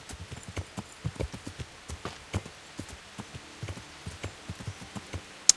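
Horse hooves clip-clopping at a walking pace in the medieval game Kingdom Come Deliverance, a steady run of crisp close hoofbeats with no voices over them.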